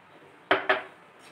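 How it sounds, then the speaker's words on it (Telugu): Two quick metallic clinks, close and distinct, ring out as a spoon strikes a pot while custard solution is mixed into boiled milk; the rest is near silence. "ఇప్పుడు మనం ఆల్రెడీ బాయిల్ చేసుకున్న మిల్క్లోకి ఇందాక మనం కలిపి పెట్టుకున్న ఈ కస్టర్డ్ అనేది దీంట్లో మిక్స్ చేయాలి."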